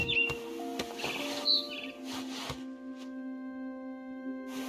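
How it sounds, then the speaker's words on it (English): A barn swallow chirps in What Remains of Edith Finch, giving short, high tweets and scattered clicks over sustained tonal game music, with no speech. "Then I heard chirping outside my window. It was a barn swallow going back to her nest."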